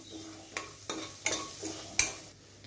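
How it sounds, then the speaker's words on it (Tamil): Ginger and garlic sautéing in a pan with turmeric and garam masala, a quiet sizzle broken by several sharp stirring knocks and scrapes spaced about half a second apart. "இப்போ இதையும் சேர்த்து நல்லா வதக்கிக்கலாம்."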